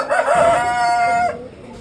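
A rooster on a poultry farm where roosters are raised for meat gives one loud, close crow lasting over a second, with no talk over it.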